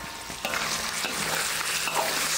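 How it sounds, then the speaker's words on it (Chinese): Pork fat rendering into lard with ginger sizzles and fries steadily in a pan while it is stirred, the scraping and bubbling close and continuous without speech. "时不时的给它搅动一下哈"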